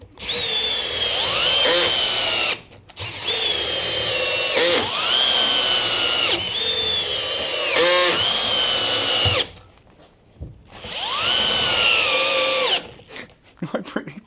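Milwaukee cordless drill, an M12 or M18, driving screws into wood: several long, loud whirring bursts with rising pitch as each screw seats, separated by short pauses and a clicking clutch, no talk.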